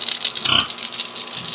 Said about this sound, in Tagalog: So ito lang yung baboy natin guys